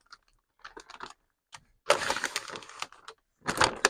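Scissors cutting a plastic part for a Fanhome Fast & Furious Dodge Charger model kit: scattered small clicks, then sharp, crunchy snips in two louder bursts, close by, with no talking.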